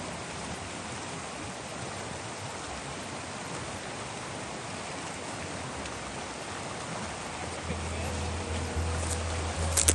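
River rapids on an Idaho fly fishing trip rush in a constant broadband roar close by, with faint voices and a low hum creeping in near the end.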